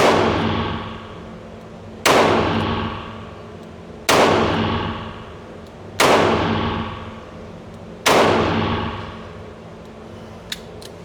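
Five loud gunshots ring out at the Safe And Sound shooting range in Dayton, Ohio, spaced about two seconds apart, each a sharp crack with a long ringing decay, followed by a faint tap.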